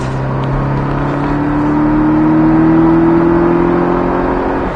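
A Porsche Cayman 718 S engine drones steadily, its pitch climbing slowly as it accelerates, loud and continuous throughout.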